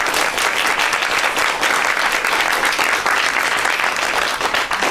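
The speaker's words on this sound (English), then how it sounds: "Can we give her a huge round of applause?" Sustained applause from an audience at an event honoring a dean's health work in Haiti, steady dense clapping throughout without speech.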